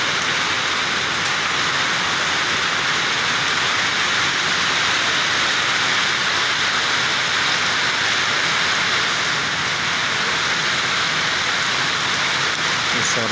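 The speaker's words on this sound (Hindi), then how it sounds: "बहुत ज़बरदस्त बारिश हो रही है आज" Heavy rain pours down steadily as a dense, even wash of drops that stays loud and unbroken throughout, with no voices.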